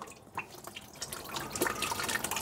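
Coolant water drips and trickles out while a water pump is removed from a Hyundai i10 during a timing chain replacement. The sound is a faint, steady patter of wet drips in a garage.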